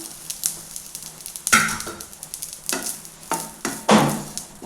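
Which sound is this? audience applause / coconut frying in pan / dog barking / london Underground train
coconut frying in pan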